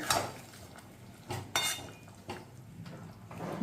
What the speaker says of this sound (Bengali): দিয়ে ভালো করে নেড়ে মিশিয়ে নেব।